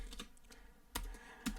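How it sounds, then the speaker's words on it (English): Computer keyboard keys tapped while entering C# code, a few sparse, crisp clicks spaced irregularly across a quiet background, with no talking. "go ahead and type in console.writeLine"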